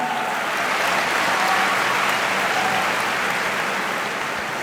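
An audience at a Teachers Day speech event claps in a dense, sustained round of applause that holds steady throughout and fades slightly at the end, with no voices over it.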